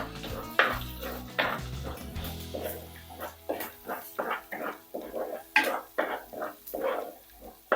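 Sardine curry in a pot is stirred over low heat, with repeated clinks and scrapes of a spoon against the vessel and some background clatter, fairly close.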